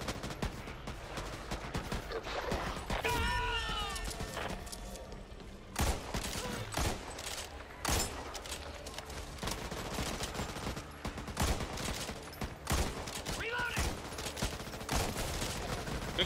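Automatic rifle fire in the zombie shooter game Back 4 Blood, heard as dense, loud, sustained rapid bursts with short gaps and overlapping shots throughout, with no voices over it.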